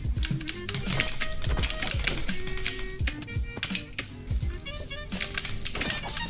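An RGB mechanical keyboard clatters under quick typing, crisp close-up key clicks in bursts and runs, with faint steady tones in the background.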